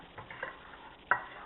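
Soft, faint stirring of pumpkin muffin batter with vanilla: a few quiet scraping strokes with a sharper scrape near the end.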